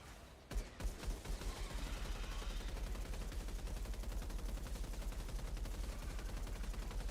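Rapid automatic gunfire from a gun in Outriders with the Worldslayer DLC: a dense, steady stream of shots that starts after a brief pause and keeps rattling evenly for about six seconds, fairly close.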